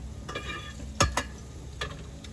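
Cauliflower frying in oil in a pan used for salmon, a quiet steady sizzle broken by a few sharp utensil scrapes and knocks against the pan, close up with no talking.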